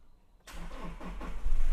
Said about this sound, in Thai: เหยียบเบรกนะครับ แล้วก็กดปุ่ม สตาร์ทได้เลย